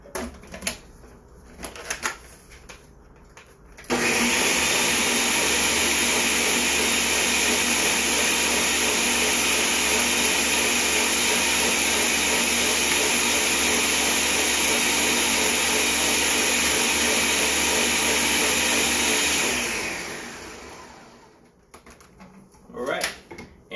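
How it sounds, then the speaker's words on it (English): Kitchen blender chopping carrots, a loud steady whirring roar that starts abruptly after a few seconds of quieter handling, runs continuously for about fifteen seconds, then winds down. "we're going to put the carrots in the blender so that these ones get chopped up a lot more fine"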